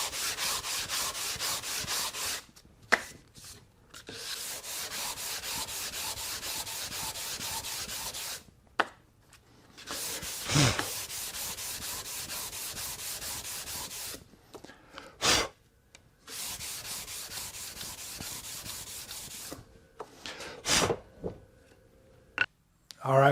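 Hand sanding of a wooden lidded box on the hard and cork sides of sanding blocks, working through grits from 120 up to 240: steady, close scraping strokes in long bursts, broken by short pauses and a few sharp breaths.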